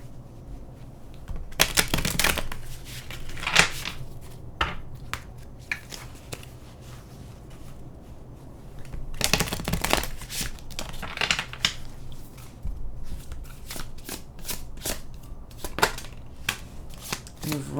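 Tarot cards are shuffled by hand in a quiet room, with several bursts of riffling and cascading cards separated by softer handling and tapping, close and clear.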